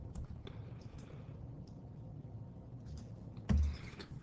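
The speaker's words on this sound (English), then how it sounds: "Let me just type that out." Brief, light keyboard clicks sound in short scattered bursts at low level, ending with a louder thump near the finish, with no voices.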